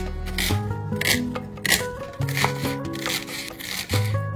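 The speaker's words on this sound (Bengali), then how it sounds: "আর ইন বিটুইন আমি বিনস, গাজর, পেঁয়াজ এগুলো একটু চপিংও করে নিচ্ছি" Beans, carrots and onions being chopped on a board, a run of irregular knife taps and scraping strokes at close range, with some tonal background sound throughout.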